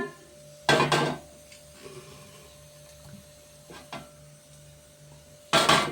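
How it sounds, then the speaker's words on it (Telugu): A metal cooking pot is set down in a home kitchen near a pressure cooker, giving two loud clattering knocks several seconds apart over a quiet background hum. "గిన్నె పెట్టుకున్నాను."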